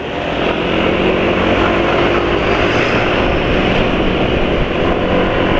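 Car engine running smoothly after a change to Mesran oil, a steady, even, loud hum that holds constant throughout with no talking.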